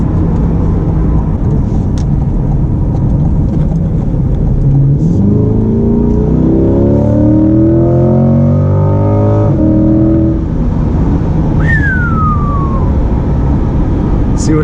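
A mid-engine Chevrolet C8 Corvette accelerates hard at night, its engine note climbing steadily through rising harmonics before easing off, loud and close throughout, with a brief high whine near the end and no talk.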